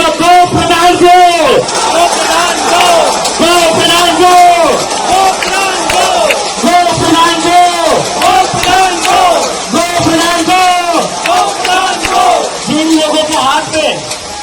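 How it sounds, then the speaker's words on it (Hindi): Protesters at Jantar Mantar chant a slogan in loud, rhythmic unison, with the phrase repeated in distinct bursts roughly every two seconds. The massed voices are close and strong and keep going throughout. "देखिए किस तरीके से जो अभिजीत दीप के हैं वो धर्मेंद्र प्रधान गो बैक के नारे लगाते हैं।"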